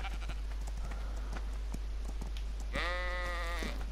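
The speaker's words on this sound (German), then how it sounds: "Hier sind ja Schafe." A sheep in the video game ARK: Ragnarok gives one clear, wavering bleat near the end, after a stretch of quiet in-game ambience with light footstep-like taps over a steady low hum.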